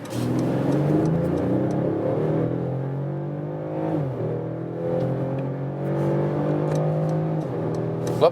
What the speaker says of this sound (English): We accelerate from 30 kilometers an hour to whatever.